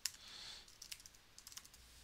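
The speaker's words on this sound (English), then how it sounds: "you could start typing students' names" Quiet, close typing on a computer keyboard: a short burst of light, irregular key clicks with soft gaps between them.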